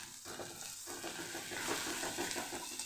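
Onion and garlic chutney sautéing in a pan, a steady close sizzle with soft stirring scrapes running throughout.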